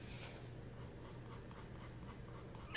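Prismacolor colored pencil coloring on smooth paper: a steady, faint scratchy rasp of the pencil lead across the sheet, continuing evenly and close up with no talking.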